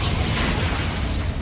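Spell blast from the Confringo fire spell in the Hogwarts Legacy video game, a dense, continuous roar of explosive bursts and crackling booms filling the whole moment at steady loudness.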